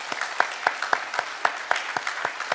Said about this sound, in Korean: 서로가 서로에게 하나님 앞에 영광의 박수를 올려드리길